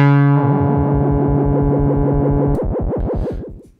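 Analogue Solutions Fusebox analogue synthesizer holding a sustained note with strong LFO vibrato, loud and alone, its pitch wobbling in a steady fast rhythm that deepens and grows grittier before fading out.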